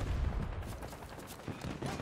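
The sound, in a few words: gunfire from a gun in the video game Battlefield 2042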